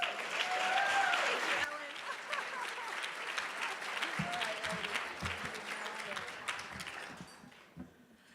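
An audience at a 2019 Women of Achievement ceremony applauds to welcome a speaker, warm steady clapping that fades out, with a few voices near the end.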